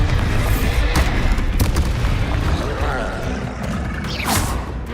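Bombarda explosion spell in Hogwarts Legacy, a loud booming blast amid dense spell-combat clamor, with sharp bursts and crashes recurring over the whole stretch.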